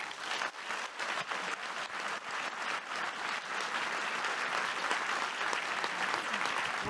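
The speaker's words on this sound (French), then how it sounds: "Je crois qu'on peut l'applaudir." An audience at a Geneva human rights film festival forum applauds a filmmaker after her talk. The clapping is steady and sustained throughout, from a medium-sized crowd filling the room, with no speech over it.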